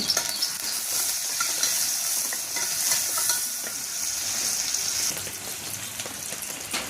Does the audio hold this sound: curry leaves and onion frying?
yes